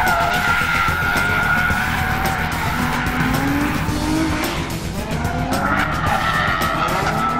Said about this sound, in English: NASCAR Nextel Cup drivers like Casey Kane, Bill Elliott, Matt Kenseth, Robbie Gordon, Greg Biffle, Scott Wimmer, and Casey Mears trying their hands at drifting